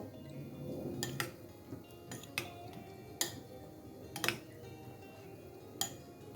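A spoon stirs sour yogurt with cucumber, carrot, beet, salt and jaggery powder in a bowl, giving sharp clinks against the bowl, about eight separate taps at an irregular pace over soft background noise, with no voices.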